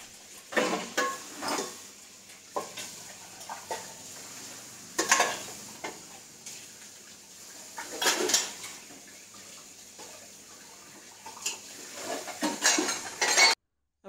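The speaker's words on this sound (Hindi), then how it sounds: "अभी सब बर्तन जो निकले हैं वो मैं बर्तन कर ले रही हूँ।" Dishes and utensils being washed by hand in a home kitchen, with intermittent clinks and clatters of pots, plates and cutlery over a steady background hiss, moderately close and with no talking.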